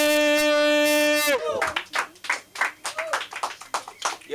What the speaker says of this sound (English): Y'all clap it up, man.